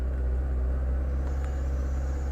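A Ford Figo engine with the accelerator pressed fully but held back by a fault that stops it above about 2000 rpm: a steady, close, unchanging low drone with no rise in pitch.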